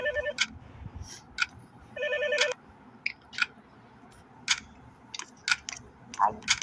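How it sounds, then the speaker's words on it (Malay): A telephone in the Roblox horror game The Morgue Shift rings in short electronic bursts, several rings spaced irregularly over quiet background hum, with faint clicks between. "Cepat angkat telefon."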